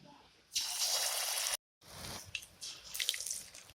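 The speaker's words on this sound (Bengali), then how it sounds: "আমি এখানে আগে থেকে তেল গরম করতে দিয়ে দিয়েছিলাম এরপর আমি এক এক করে ভেজে নেব" Battered pointed gourd pakoras fry in hot oil, giving a loud, steady sizzling hiss that stops abruptly, then returns as a softer, uneven crackle.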